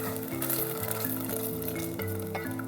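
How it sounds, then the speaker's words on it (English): Food sizzles and crackles steadily in hot oil in a pan, a dense continuous frying hiss close by, with a low steady hum underneath. "I'm sure you could hear that was just sizzling away"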